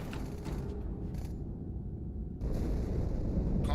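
An explosion erupts aboard a ship in Halo 2, a deep rumbling boom with creaking metal, easing briefly before a second heavy surge of blast noise.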